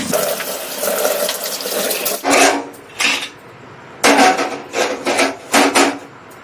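Water running from a kitchen tap while a sink is washed, a steady splashing stream that gives way to intermittent bursts of running and splashing, close and fairly loud.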